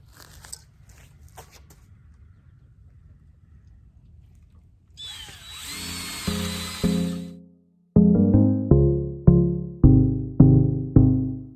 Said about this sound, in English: go in with a screw from the bottom and screw them in so they'll be more stout